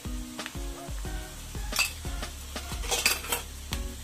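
Onion fries in a pan as a spoon stirs it with turmeric, sharp metallic clinks and scrapes against the pan over a continuous close sizzle.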